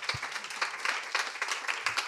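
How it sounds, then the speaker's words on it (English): A small audience claps in a round of applause at a film talent talk, with sparse, uneven individual claps heard close by throughout and no voices over them. "give a round of applause from the beginning"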